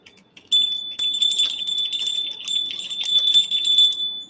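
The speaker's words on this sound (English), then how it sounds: "We'll ring the bell." A bell rung during a live show, with a steady high ringing tone and bright metallic jingling strikes, repeated at an irregular pace for about four seconds with no talk over it.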